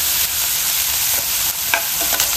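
Ginger garlic paste mixture stirred and fried in a pan at home: a steady, close sizzle with a few scraping stirs of a spoon against the pan, and no voices.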